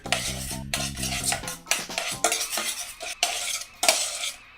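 Sauce stirred with fresh parsley and olive oil, a close series of clinking utensil strokes against a pot or pan with soft wet scraping between them, no voices.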